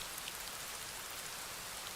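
Heavy rain in the Rising World video game: a dense, steady hiss of rainfall that stays constant and loud from start to finish, with no voices.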